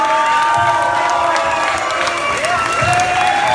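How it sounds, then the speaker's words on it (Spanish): A crowd at a band competition awards event cheers and applauds the bands that played, loud and continuous, with whoops and shouts over the clapping and a voice speaking through it. "un aplauso para todas las bandas que tocaron"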